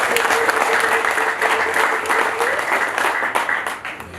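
A church congregation applauds during a sermon, a full, dense round of clapping sustained throughout, with some voices in the crowd beneath it.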